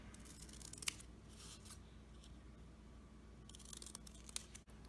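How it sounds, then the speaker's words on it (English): Scissors snip through a thick stack of paper squares for a paper tree craft, giving a few faint, isolated crisp cuts over quiet room hiss. "this might be a little bit thick to cut through all of these at once"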